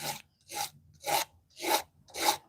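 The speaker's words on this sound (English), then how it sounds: "This is a 220 grit, so it's pretty rough. So I'm roughing up what I got here" 220 grit sandpaper rubs a small area of leather in five even, rhythmic rasping strokes about half a second apart, close up and fairly quiet, with no voices.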